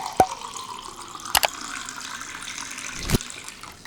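Tap water runs into a baking soda and water mixture, a steady trickling flow broken by a few sharp clinks and knocks.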